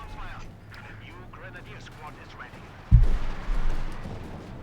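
Anti-tank gun in Company of Heroes 2 fires a single heavy boom near the end, with a second thump after, following quieter battle ambience under a commentator's talk.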